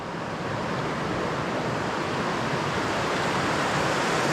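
Waterfall at the bottom of the Pig Pen and Licklog Falls trail beside a swimming hole, a dense, steady rush of falling water close by, loud and unbroken throughout with no voices.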